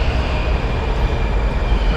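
A downtown subway train rumbles through the station, a loud, continuous low roar of wheels and cars rolling past without any pause.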